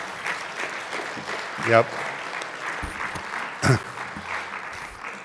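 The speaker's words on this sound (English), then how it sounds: "let's give them another round of applause" A synagogue congregation at a Friday night Shabbat service applauds in a steady, moderately loud wash of clapping, with a couple of short spoken interjections over it.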